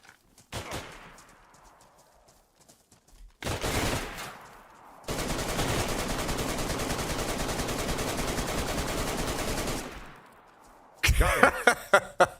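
Semi-automatic gunfire in a Chernarus survival video game, with a few scattered shots, then a long loud sustained burst of gunfire, silence, and another cluster of sharp close reports at the end.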